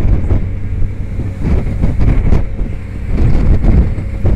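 Strong wind buffets a handheld microphone outdoors at the waterfront in Sea Gate, Brooklyn, producing continuous heavy low rumbling gusts that swell and dip throughout, with no clear speech.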